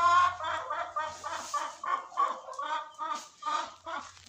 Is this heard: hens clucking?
yes